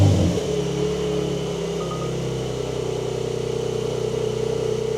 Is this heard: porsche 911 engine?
yes